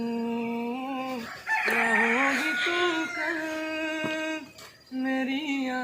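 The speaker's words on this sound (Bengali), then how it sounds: "মুরগির আওয়াজই বেশি শোনা যাচ্ছে।" Chickens cluck and a rooster crows nearby, with drawn-out, tonal calls that rise and fall over several seconds and break off briefly before resuming.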